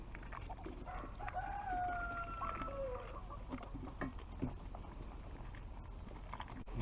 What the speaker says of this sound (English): This is my boy, my rooster.